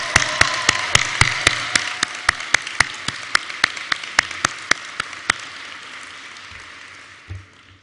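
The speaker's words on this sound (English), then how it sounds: "Let's join and give them another round of applause." Convention crowd at a leadership awards ceremony applauds, with one nearby pair of hands clapping sharp, evenly spaced beats over a softer wash of clapping that fades out toward the end.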